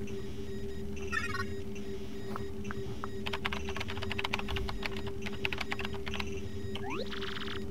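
Quick keyboard typing in the video game Paper Mario: The Thousand-Year Door, a short burst of rapid clicky keystrokes over a steady electronic hum, ending in a rising synthetic chirp.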